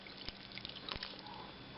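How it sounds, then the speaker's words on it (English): Water poured into a pot of hearty Iranian beef stew with turmeric, tarragon and onion, a soft close trickle with a couple of brief splashy accents over a steady low wash. "Okay, we are going to add more water."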